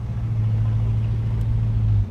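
Steady low engine rumble from a 1972 Buick Gran Sport convertible with its original numbers-matching motor, idling close and loud for about two seconds before cutting off abruptly.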